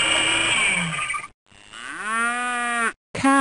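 A cow in the Bailey's Book House video game moos loudly and clearly in long, drawn-out lows, broken by short pauses, with one more low starting at the very end.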